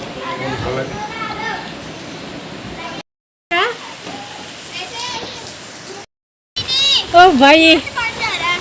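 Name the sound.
rain falling with children playing outside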